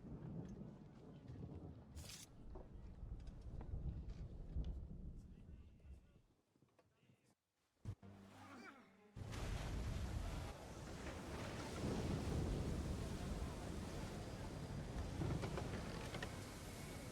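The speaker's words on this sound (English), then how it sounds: "You wish us to sail into the storm. The storm that is approaching." Storm at sea in Assassin's Creed III: strong wind and crashing waves roar around a sailing ship, quieter at first with voices, then surging loud and steady after a brief lull.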